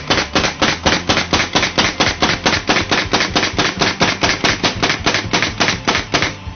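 A pneumatic nail gun powered by a Rolair air compressor fires nails in a fast, even series of about two dozen loud, close bangs, with no talking.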